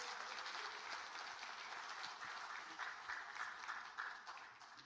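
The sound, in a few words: applause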